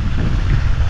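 Engines driving irrigation water pumps on an okra farm run as a steady, loud low rumble with a rough, wind-buffeted texture throughout the short stretch.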